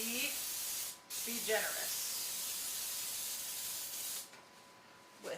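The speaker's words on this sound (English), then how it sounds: "I have a muffin tin that I'm going to spray with some non-stick spray" Non-stick cooking spray hisses from an aerosol can into a muffin tin in a home kitchen, two long, close, steady bursts separated by a short pause, with someone speaking briefly.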